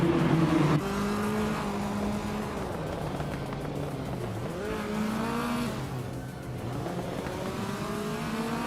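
A Nissan Skyline GTR 32 engine droning steadily through a race, its pitch rising and falling with gear changes and revs, loud and continuous with competing engines blending in behind.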